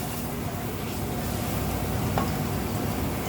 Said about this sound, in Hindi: अब इसमें डालेंगे पुदीना, कोतमीर, थोड़ा सा इसको हल्का मिक्स करेंगे